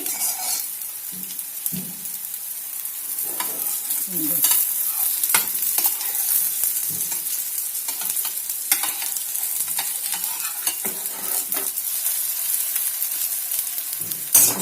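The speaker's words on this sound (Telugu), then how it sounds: "ఇప్పుడు వీటిని కూడా మనం సేమ్ వాటిలాగే గోల్డెన్ బ్రౌన్ వచ్చేంత వరకు వేపుకుందాం" Tikkis fry in oil until golden brown, with a steady, close sizzle that runs the whole time. Occasional scraping and stirring clatter comes from the pan, and nobody speaks.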